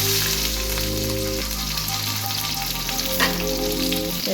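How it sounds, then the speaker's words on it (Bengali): Capsicums frying in a little oil with chopped garlic, ginger and onion give a steady, close, loud sizzle with faint stirring scrapes and a low hum underneath. "ক্যাপসিকামগুলো দিয়ে দিচ্ছি।"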